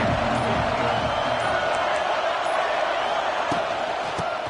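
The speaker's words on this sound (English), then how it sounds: "This crowd ready to make its presence known." A large stadium crowd at a football game roars in a dense, continuous wash of noise, with a voice talking faintly over it.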